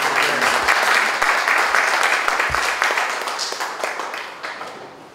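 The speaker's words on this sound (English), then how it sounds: "Another round of applause, please." Audience applause at a poetry reading in St. Elizabeth Library, a dense burst of clapping that gradually thins and fades over about five seconds, with a few distinct near claps standing out.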